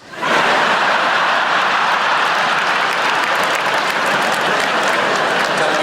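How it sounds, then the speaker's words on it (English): A packed theatre crowd at a 2008 live stand-up comedy show breaks into loud, dense, sustained applause that holds strong throughout. "Don't you dare applaud that."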